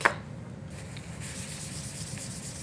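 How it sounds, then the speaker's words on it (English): A tissue rubs steadily over a handmade Christmas card to wipe away excess ink and reveal shimmer paint beneath, a soft continuous scratchy swishing heard close up with no talking. "just take a tissue and rub off that excess ink"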